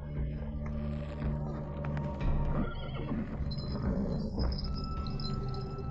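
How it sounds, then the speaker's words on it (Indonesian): A red horse neighs with a loud whinny in a desert setting, mixed with hoofbeats and scraping movement, and a faint voice underneath. "Kuda merah pulang."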